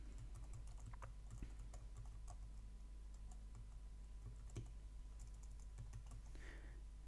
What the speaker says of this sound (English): I'm going to just type in